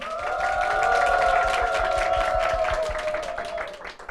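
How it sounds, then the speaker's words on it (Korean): Church audience applauding to welcome a guest during a worship-themed program: a dense, steady wash of clapping over a held musical tone, fading out near the end. "큰 박수로 모시겠습니다"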